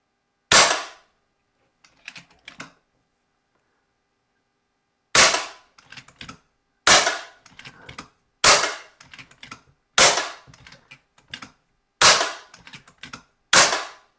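A toy gun fires with a Stud Magloader magazine indexing, giving seven sharp, loud snaps spaced about every one to two seconds, each followed by quick mechanical clicks as the magazine advances.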